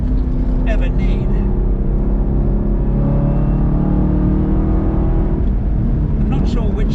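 A Camaro ZL1 1LE engine drones and pulls hard on a race track, loud and close with a sustained rising tone, under a voice talking from inside the car.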